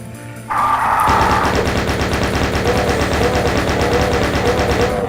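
Rapid, sustained automatic gunfire in a Doom map, loud and continuous after a short lead-in, with a dense rattling stream of shots and no voices.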